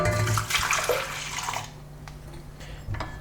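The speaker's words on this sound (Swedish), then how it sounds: "Så där, mjölken är varm. Då häller vi ner det i jästen." Warm milk is poured close up onto crumbled yeast for a sweet braided dough. A loud, splashing liquid rush runs for over a second, then fades to a quiet, sparse trickle with a few small drips.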